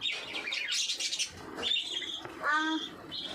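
Small pet birds chirp and tweet in quick bursts nearby, a busy twittering with a few clearer whistled calls.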